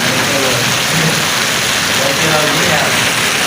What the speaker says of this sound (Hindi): इधर पहुंचते बहुत ही ज़ोर से बारिश शुरू हो गई है